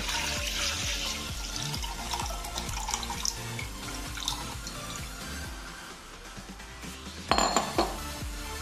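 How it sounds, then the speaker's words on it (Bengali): Coconut milk pours into a cooking pan with a continuous liquid splashing and gurgling, close and steady, followed near the end by a brief metallic clink and a louder splash. "ওর মধ্যে আমি এই নারকেলের দুধটা দিয়ে দেব।"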